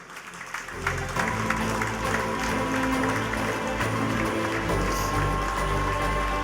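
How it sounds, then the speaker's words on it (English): Applause from an audience at the St Thomas Public School annual day celebration, a steady wash of clapping with a low hum beneath it. "Give a big round of applause to Anna Elsa Renju."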